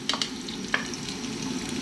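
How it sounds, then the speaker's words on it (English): Onions and pork or bacon frying in sunflower oil in a pot, giving a faint steady sizzle with a few brief stirring clinks near the start. "We're going to start off by dropping in those onions. We're going to get in our pork or bacon."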